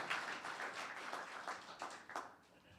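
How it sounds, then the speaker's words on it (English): Faint applause from a town council meeting audience, a steady patter of many hands that swells in a few louder bursts and tapers off near the end. "Another round of applause for Mr. Gerber."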